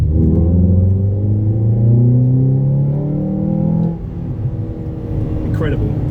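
Ford Fiesta ST with a 2.0 Duratec engine, Mountune inlet manifold and remap accelerating from 2000 RPM: a strong engine drone with rising harmonic tones as revs climb, a gear change near four seconds, then continued pull.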